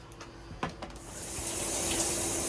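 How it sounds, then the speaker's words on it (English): Shower water runs while hair is being wetted, a steady hiss that swells and grows louder after a few soft knocks, close by with no speech. "So here I am in the shower, wetting my hair"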